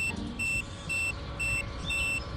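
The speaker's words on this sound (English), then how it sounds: "Miss T is getting annoyed with the beeps of the metal detectors" Metal detectors in the Scary Teacher video game emit repeated electronic beeps, a regular on-off pattern of steady tones over a low background rumble.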